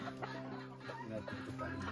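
A large rooster on a Puerto Rico rooster farm clucks and calls in short, fairly faint bursts, close by, with no talk over it.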